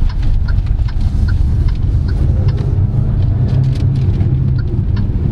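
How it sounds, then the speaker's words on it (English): A 2024 GAC GS3 Emzoom GS base model drives along, its steady low road and engine rumble continuous and loud throughout, with faint ticking clicks above and no talking. "So driving this final Emzoom base model"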